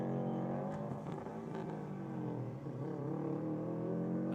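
A Subaru WRX and a Mercedes A45 launching down the Sydney Dragway strip, a rising engine drone with layered harmonics climbing in pitch, heard faint and from a distance.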